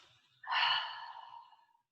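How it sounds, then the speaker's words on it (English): A big cleansing exhale through the mouth during a morning yoga practice: a soft, breathy whoosh that swells suddenly, then fades gradually over about a second and a half, close and quiet, alone. "So we take a big cleansing breath."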